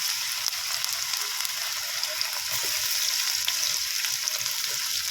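Chopped garlic and ginger fry in hot oil with a continuous soft crackling sizzle, fairly even and close, with faint occasional stirring touches and no talk.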